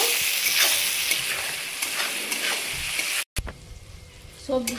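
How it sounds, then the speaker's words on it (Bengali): Capsicum stir-fried in a hot pan for party-style fried rice: a steady, close sizzle with repeated scraping stirring strokes, cut by a brief pause near the end before frying resumes. "এবার আমি এখানে দিয়ে দেব ক্যাপসিকাম। দিয়ে দিলাম, দিয়ে আবারও নাড়াচাড়া করে ভেজে নেব।"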